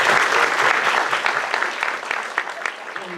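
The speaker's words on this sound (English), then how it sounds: "we want to give you a round of applause" A film-event audience applauds a fundraising committee with loud, dense clapping from many people that starts strong and tapers off as individual claps thin out toward the end.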